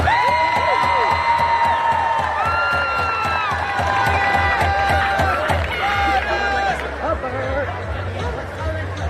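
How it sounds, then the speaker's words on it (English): Large crowd at a 2023 high school homecoming court presentation cheering and applauding steadily, with shouting and whistles over a dense babble of voices throughout. "Let's give one more round of applause to our 2023 homecoming queen court members"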